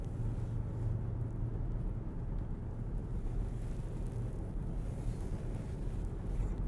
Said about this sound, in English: there is a bit of wind noise in the cabin at speed. You can hear it buffeting off the A-pillars and the roof